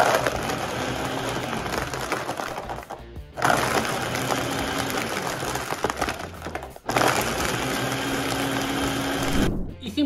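A blender grinds almond milk with honey, a loud steady whir running in three long bursts separated by brief pauses.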